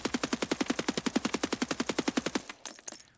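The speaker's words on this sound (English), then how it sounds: "We'll do this one more time with the MDR, full auto, no compensating for recoil." Rapid full-auto burst from an MDR rifle in Escape from Tarkov, a steady string of about twenty evenly spaced loud shots that ends abruptly, leaving a faint clattering tail.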